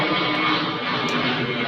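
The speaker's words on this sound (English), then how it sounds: "for that plane to go over." An airplane passing overhead outdoors, a steady broadband roar that fills the whole stretch with no talking over it.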